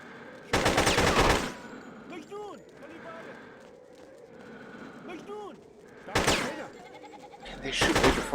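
Gunfire in Hitman 2: Silent Assassin: a loud, dense burst of automatic fire lasts about a second, and two shorter volleys follow near the end. A voice talks in the quieter stretch between the bursts.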